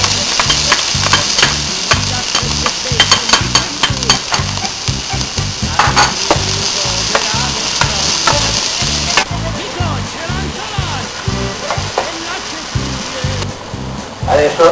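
Onions, garlic and chili pepper fry in a pan while being stirred, giving a steady loud sizzle with regular scraping strokes throughout, for a pasta e fagioli in Abruzzo style.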